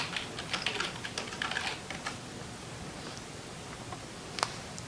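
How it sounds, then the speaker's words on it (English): Quick run of typing on a computer keyboard at a clinic workstation, soft close key clicks over a steady background hiss, no talking. "type in breast cancer in the search field"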